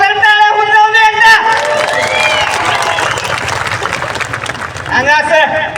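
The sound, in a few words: audience applause at live comedy show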